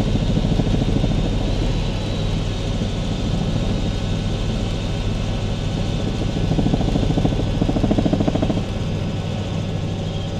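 Helicopter in flight on a passenger ride, heard from inside the cabin as a loud, constant engine and rotor drone with a dense low rumble that holds steady throughout.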